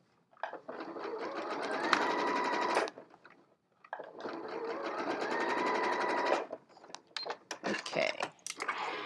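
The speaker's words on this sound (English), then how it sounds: "you can always lengthen your stitch length a little bit more to make the machine pull through more layers as it stitches" A sewing machine stitches through the layers of a zippered pencil pod pouch in two long, steady runs with a short pause between them, followed by a few brief stop-start bursts. The sound is close and loud, and no one speaks.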